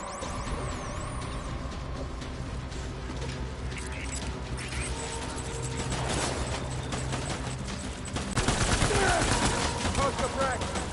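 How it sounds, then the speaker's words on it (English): Gunfire in the video game Death Stranding, a continuous rattling burst of shots with mechanical clatter, growing louder and denser toward the end, mixed with game sounds. "Open fire."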